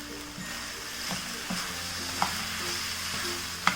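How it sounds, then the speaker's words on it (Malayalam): Fried yam pieces and capsicum being stirred in a pan for chilli yam, a soft steady sizzle with a few sharp spatula scrapes and clicks spread across the stir. "ചേനയ്ക്കൊപ്പം തന്നെ ഈ ക്യാപ്സിക്കം കൂടി ഇട്ടിട്ട് നമുക്ക് മിക്സ് ചെയ്ത് കൊടുക്കാം."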